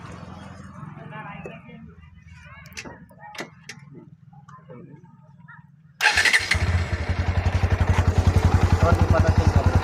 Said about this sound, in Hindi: अब इसके गाड़ी को स्टार्ट करते हैं।